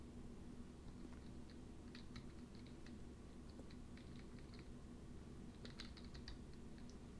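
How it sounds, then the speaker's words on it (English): Keyboard typing from The Stanley Parable video game, a soft layered mix of real key strokes and synthesized tones, faint clicks tapping in uneven bursts over a low steady hum. "It's a mix of a keyboard stroke and synthesized sound."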